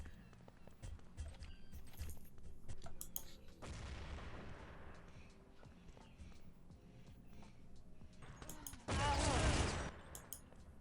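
Gunfire and a grenade blast in a competitive team shooter match, scattered shots and footsteps building to a loud burst of rapid fire and a sharp explosion near the end, with faint commentary voices underneath.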